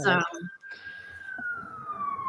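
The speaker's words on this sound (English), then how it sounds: "Did you hear the sirens just go by?" A siren wails past, its long tone sliding slowly downward as it fades into traffic rumble, with a brief burst of voices at the start.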